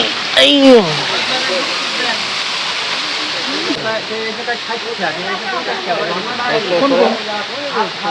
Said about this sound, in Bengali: ছোট ঝর্ণা তো বেশি পানি নেই